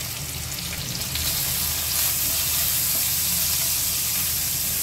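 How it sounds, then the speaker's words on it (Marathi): Chopped garlic and asafoetida frying in hot oil in a pan, a dense, close sizzle that swells slightly after the first second and holds steady with light stirring. "आता लसूण छान भाजून झालेला आहे"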